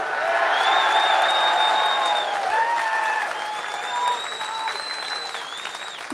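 Rally crowd applauding, a sustained wash of clapping at moderate distance that holds steady for several seconds, with a faint cheer and whistle-like tones over it.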